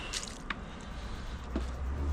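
Water sloshes and squishes inside a jar as it is flushed out, wet gurgling with a few drip-like splashes, close and steady without talk.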